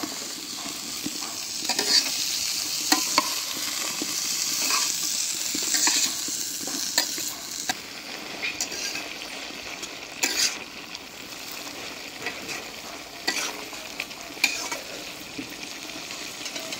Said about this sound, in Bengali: এখন আমি মশলার সাথে ভালো করে একটু নাইড়া মিলাই দিই।